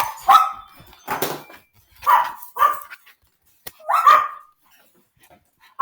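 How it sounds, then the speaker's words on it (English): Dogs barking in a house, a series of sharp, loud barks in separated bursts with silent gaps between them, close by and with no talk. "my dogs are going crazy"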